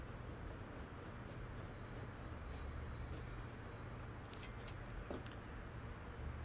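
Trains run in the video game Archipelago, hauling old 1906-era rolling stock with a steady rumble of rolling wheels, thin high squeals drifting over it and a few sharp metallic clicks near the end.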